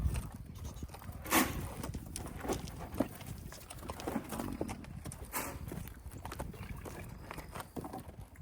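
Several horses shift and step about near buckets at feeding time on a farm, hooves clip-clopping irregularly at close range with occasional thumps and snorts.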